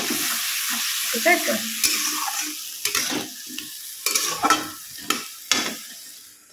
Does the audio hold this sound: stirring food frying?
yes